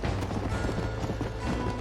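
Horse hooves galloping in the Red Dead Redemption video game during a mounted shootout, a steady rapid clip-clop rhythm running throughout, fairly loud and close, with a low rumbling bed underneath.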